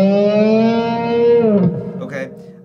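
An electric guitar plays a solo lick: a sustained, bright note holds, then the whammy bar dives it sharply downward before a quick upward bend, played close and alone.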